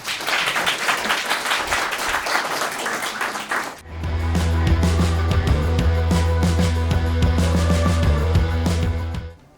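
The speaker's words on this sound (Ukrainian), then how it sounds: "Оплески для вас." An audience at a stand-up comedy show claps loudly for nearly four seconds, then the applause cuts off as loud music with a heavy, throbbing bass takes over until the end.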